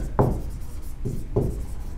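Chalk or marker strokes on a board during an engineering lecture: three short scratchy writing strokes, close and fairly quiet, with pauses between them.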